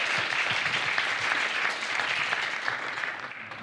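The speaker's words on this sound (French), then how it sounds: "on l'applaudit s'il vous plaît, on applaudit Alina" Steady applause from a conference audience fills the clip, dense and continuous, tapering slightly toward the end.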